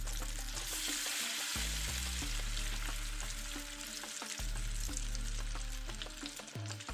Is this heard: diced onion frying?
yes